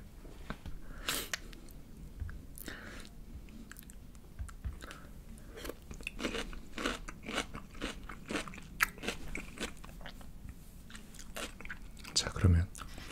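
Crunchy BBQ Golden Olive fried chicken being eaten up close, with repeated loud crisp bites and chewing crunches spread irregularly through the clip, no talk over them.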